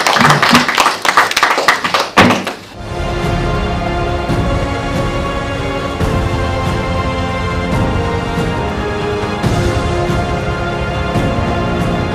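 A crowd applauds after a Ukrainian Cup football match, with steady, dense clapping that holds at an even level throughout and follows a brief burst of louder claps and voices at the start.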